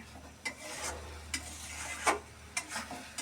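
Cham grass and spices fry in a pan, a quiet steady sizzle broken by several sharp scrapes and taps of a stirring utensil, with no one talking.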